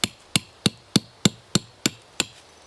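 Eight sharp, evenly spaced hammer blows drive a tent stake into the ground while pitching an RBM Panda Large canvas hot tent, each strike loud, close and ringing briefly, with no talking.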